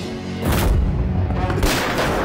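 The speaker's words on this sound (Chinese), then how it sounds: "谁让你们开枪的？" Gunfire erupts in a wartime spy drama set in the early years of the war against Japan, with two heavy, booming shots close by, separated by about a second.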